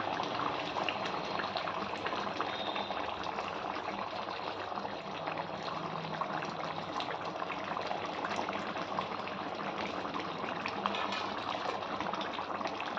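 Chicken curry with coriander bubbles steadily in a pot, a dense, even simmer of popping and gurgling that holds at a constant level throughout, with no voices.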